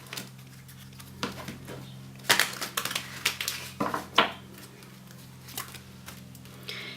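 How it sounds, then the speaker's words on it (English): Quick papery riffles and taps of an oracle card deck being shuffled, several short flurries close up in a quiet room. "the last deck for use is an Oracle deck, and again we will just shuffle this"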